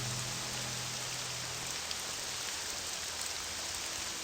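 Steady rain in the video game Morrowind pours down in a dense, even hiss, with a low hum underneath at first and no voices.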